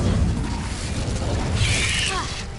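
An Incendio fire spell is cast in Hogwarts Legacy, giving a sustained roaring, rushing burst with a deep rumbling low end and a brief whistling flare near its close.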